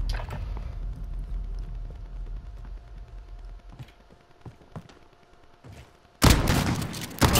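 Gunfire in Call of Duty Modern Warfare during a gunfight tournament match: scattered sharp shots ring out over a low rumbling background, then a loud, dense burst of fire erupts near the end.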